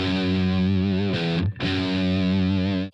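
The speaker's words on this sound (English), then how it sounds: "Let's have a look at that big distorted electric guitar part." A big, heavily distorted electric guitar part plays loud, sustained chords that ring thick and meaty, broken by one brief gap midway before the wall of sound resumes. No voices are heard.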